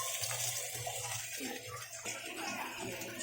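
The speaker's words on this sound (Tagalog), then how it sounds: "At saka natin lagyan ng toyo pati suka." Liquid, soy sauce and vinegar, streams into a pan of chicken feet adobo, a soft continuous splashing pour that carries on steadily at close range with faint background noise and no talking.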